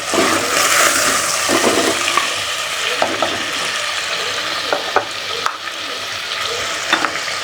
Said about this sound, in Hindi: मैंने चिकन को सरसों के ऑयल में 5 मिनट के लिए ये देखें अच्छी तरह फ्राई कर लिया है।